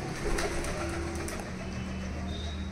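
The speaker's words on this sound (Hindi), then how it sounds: "पता नहीं कहाँ से कबूतर आ गए और वो गेहूँ खाने में है" Pigeons eating scattered wheat coo softly nearby in low, repeated calls over faint background noise, with a brief flutter early on.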